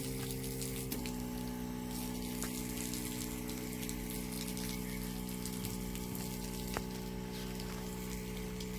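A Karwa Gold lithium battery pump spraying water at high pressure, a constant whirring motor hum with a rushing water spray layered over it, steady and close, with a couple of faint clicks.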